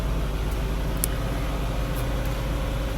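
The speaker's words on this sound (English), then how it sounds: "sorry if my car is loud right now" Steady, loud car engine and road rumble from inside a moving vehicle, a constant low drone filling the whole stretch with no talk.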